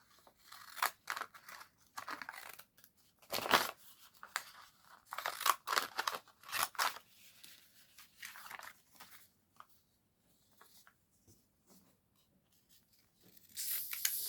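Paper being cut up with scissors for stamped background papers, a run of crisp snips and rustles at close range, with several short pauses between bursts and no talking.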